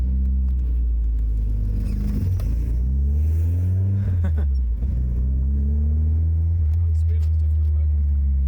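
A Toyota Corona RT142 engine drones on the road, a loud low rumble that rises and falls as the car revs and shifts through gears, with people talking over it inside the cabin.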